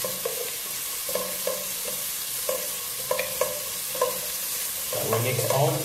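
Chopped garlic stirred into a risotto base in a hot pan, a steady sizzle broken by rhythmic scrapes and taps of a spoon, louder stirring and clatter toward the end, close and without talk.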